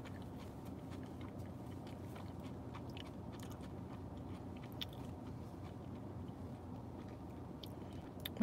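Quiet, close chewing and biting of a Jack in the Box breakfast burrito, a soft continuous munching with faint crunches and scrapes over low room noise and no speech.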